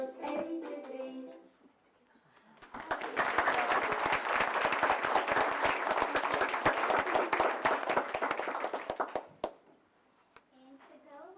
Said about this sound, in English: Come join in and clap with me